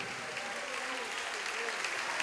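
A church congregation claps loudly and continuously, dense applause filling the whole stretch with no pauses.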